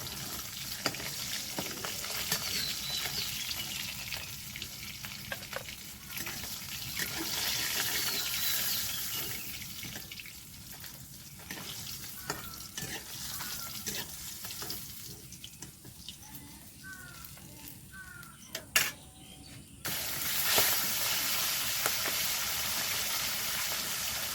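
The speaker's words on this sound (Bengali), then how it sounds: "বাকি মাছগুলো এইভাবে আমি সবগুলো ভেজে নেব" Fish frying in oil in a home kitchen, a steady close sizzle and crackle running throughout with occasional clinks and stirring, no talk over it.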